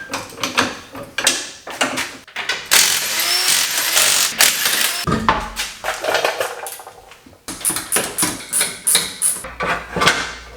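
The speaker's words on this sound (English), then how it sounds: "I literally just pull a bolt out, pull the old ones out, put the new ones in." Brake pads being swapped on a Wilwood big brake kit on an LS1-swapped E36, with loud close metallic clanks, ratcheting and knocks of a bolt pulled and parts handled, irregular and busy, no speech.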